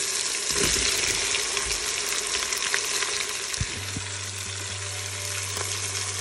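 Coarsely chopped onion frying with turmeric for a Tunisian okra stew, a steady close sizzle running throughout, with a low hum joining partway through.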